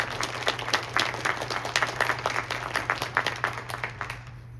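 An audience at a keynote panel applauds the organizing teams, a moderate crowd of rapid, overlapping claps heard at a slight distance over a steady low hum.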